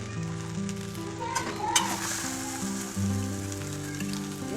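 Ginger garlic paste sizzles and fries steadily in a pan with spices for an aloo matar curry, a continuous close hiss with a few stirring scrapes and no talking.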